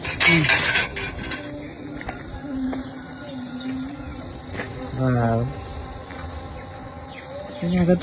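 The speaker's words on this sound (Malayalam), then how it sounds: "ഫുള്ള് തേനീച്ചയാണ് അതിന്റെ എരമ്പലാണ്" Honeybees swarm around blooming dragon fruit flowers in a garden at dawn, a close, wavering buzz that swells as insects pass near, with faint clinks and a brief voice-like sound in the background.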